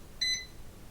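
A single short electronic beep from an ADT Pulse security system keypad counting down before arming, brief and fairly clear against a quiet room.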